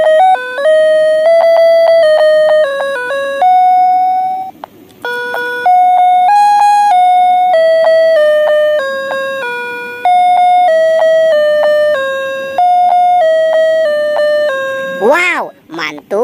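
A toy dinosaur piano plays a bright electronic melody of sustained tones, loud and close, with a brief pause midway and a warbling siren-like effect at the end.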